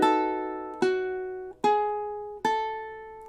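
Ukulele picking a short phrase from a song: four clear plucked notes, evenly spaced and ringing, played alone and close with no voice.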